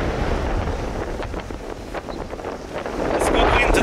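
Strong wind roars steadily across a sailboat at sea in foul weather as it runs at almost 7 knots under little sail, with broadband gusting and water rush that builds louder toward the end.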